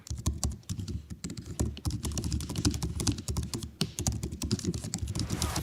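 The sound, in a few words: typing on MacBook Air laptop keyboard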